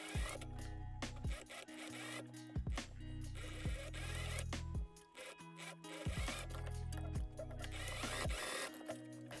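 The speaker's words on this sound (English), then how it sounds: "I'm just gonna sew over that at 1 centimeter" Sewing machine bar tacking over the loops of a jacket, a steady mechanical whir broken into repeated bursts as stitching starts and stops, close and fairly loud with no talking.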